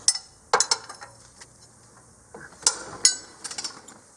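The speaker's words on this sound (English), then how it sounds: "we can get a wrench on there to be able to back the tension off so we can get the belt off" Size 14 wrench working on the serpentine belt tensioner of a 2017+ Nissan Rogue Sport: scattered close metallic clinks, ticks and a brief ratcheting rattle, with quiet gaps between.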